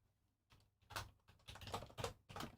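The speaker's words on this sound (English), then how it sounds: "Angry British typing." Quick, faint keyboard typing in short uneven bursts of clacking keys, close by in a quiet room.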